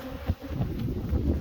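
Honey bees buzz close around beehives in an apiary, a dense, continuous insect drone with brief rising swells as individual bees pass near.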